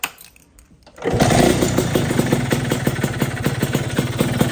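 A stock Vespa scooter engine kicks into life after a brief quiet start, then settles into a steady, loud, close putter at idle with an even rhythmic pulse.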